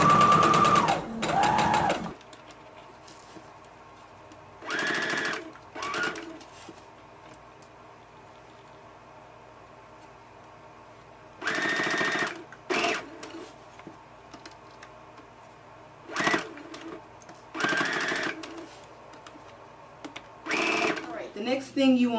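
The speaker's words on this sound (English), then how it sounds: "Lower your needle, begin sewing, and backstitch." A domestic sewing machine stitches a seam with backstitching, running in several short mechanical whirring bursts separated by pauses of near silence, close and fairly loud.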